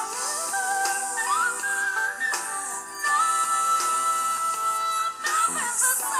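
A singer sings a long, gliding melody that climbs from chest through head voice into thin, piercing whistle-register high notes, sustained and loud over soft accompaniment.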